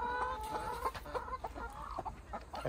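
Chickens in a pen near a tent at the foot of a mountain cluck in short repeated bursts, faint and fairly distant, with no talk.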